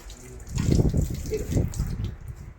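Tap water running as someone washes their hands, a steady close splashing gush that swells and holds for a couple of seconds.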